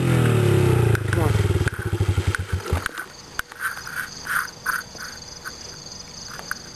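A motorcycle engine cranks and sputters, then dies after a few rough, uneven turns. Loud at first, it fades into quieter scattered rattles while a voice talks nearby.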